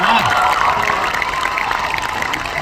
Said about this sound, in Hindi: सबसे ज्यादा तालियां और आवाज लड़कियों की तरफ से आ रही है।